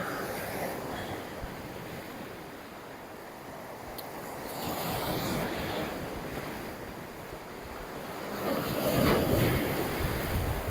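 Steady roar of ocean surf with waves washing in and building to a louder crash near the end, mixed with some wind buffeting the microphone.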